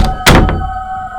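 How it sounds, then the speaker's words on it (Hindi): A door is shoved open in a horror story scene, heard as a heavy, close thunk with a short knock before it and a faint bump after, over a quiet background. "दरवाजा खुल गया।"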